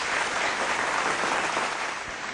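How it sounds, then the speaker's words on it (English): An audience at an education awards ceremony and summit breaks into sustained, dense clapping, loud and even throughout with no voices. "Can we all start with a round of applause,"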